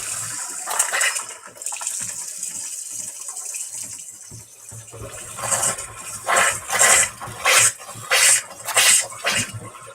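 Tap water laced with methane runs from a faucet in uneven spurts and gushes, with hissing bursts that surge and pause roughly once a second toward the end.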